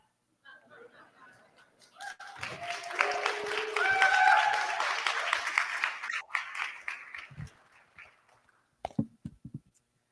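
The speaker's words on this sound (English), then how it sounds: "It's very rare to get that level of applause for asking people for money." Applause and cheering from a crowd at a political rally in Chicago, swelling into a dense, loud wash of clapping with shrill whoops on top, then fading to a few scattered final claps.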